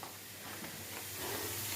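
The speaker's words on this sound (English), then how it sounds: "Chips in the frying pan." Chips frying in a pan give a steady close sizzle and hiss that grows slightly louder toward the end, with no talking over it.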